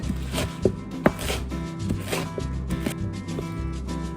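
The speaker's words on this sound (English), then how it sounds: "Just start chopping into slivers." A knife chops food into slivers on a cutting board, with quick irregular taps and a couple of sharper, louder knocks, close and clear with no talking.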